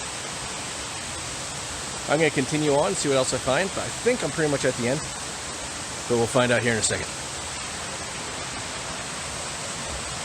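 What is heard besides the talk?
waterfall in a creek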